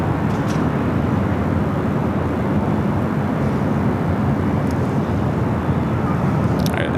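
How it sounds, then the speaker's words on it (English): Philippine Airlines Boeing 777-300ER taxiing at LAX, a constant dense engine rumble with a steady wash of noise throughout, fairly loud and unchanging, with no one talking. "Philippine Flight 113, the 777-300ER heading to Manila, heading to the south side"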